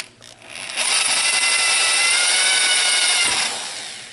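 A power drill bores steadily through thick cast iron during a crack repair, grinding loudly and evenly for about three seconds before the sound drops away abruptly as the bit snaps.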